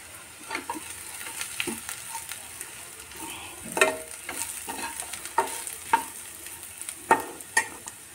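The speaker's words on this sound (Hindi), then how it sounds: "प्याज फ्राई हो गई है, हल्की ब्राउन हो गई है।" Onions, mustard seeds and spices sizzle steadily in a pan, fried light brown, with scraping and clinking from stirring scattered throughout; no one speaks.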